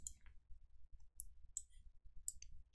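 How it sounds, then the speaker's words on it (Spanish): A computer mouse is right-clicked during work in an Excel spreadsheet, giving a few faint, sharp clicks scattered over a quiet low hum. "cuando yo le doy clic derecho al mouse"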